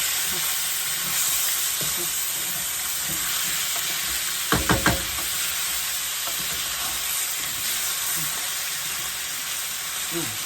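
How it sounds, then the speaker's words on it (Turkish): Rice sautés in a hot pan for chicken pilaf with a steady, close sizzling hiss. A spoon scrapes and stirs faintly throughout, and a short cluster of louder clinks comes near the middle. "Biraz daha böyle kavurun."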